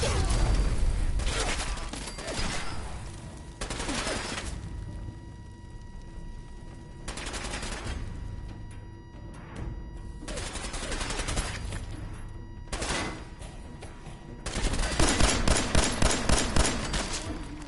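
Gunfire in Fallout 4 at Skinny Malone's hideout, loud bursts of shots and automatic fire coming in several separate volleys with brief lulls between, ending in a dense rapid barrage.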